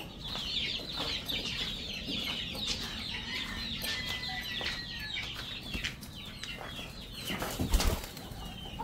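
Chickens and young chicks cluck and peep together close by, with high chick cheeps running throughout, some wing flapping, and a brief louder flurry near the end.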